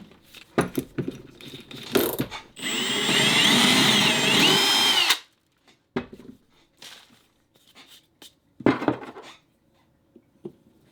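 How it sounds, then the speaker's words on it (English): A power drill whirs steadily for a few seconds, drilling a hole for a hook, close by, surrounded by clanks and handling noises of tools being set up and put down. "Now I'll drill a hole and put this hook in."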